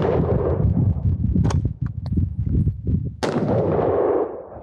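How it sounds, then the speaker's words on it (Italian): Loud, close shots from an M4 rifle in .223 at a shooting training session, a few sharp reports spaced unevenly with ringing echo trailing after each one. "Lascialo sparare un po'."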